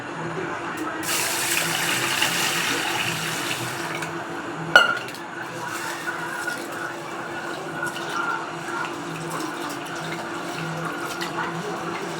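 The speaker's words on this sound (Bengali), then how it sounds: "জলটা ঢেলে নেবো" Water poured into a cooking pot for rice, a brief rushing pour near the start followed by a single clank of the pot, with low kitchen background noise continuing afterward.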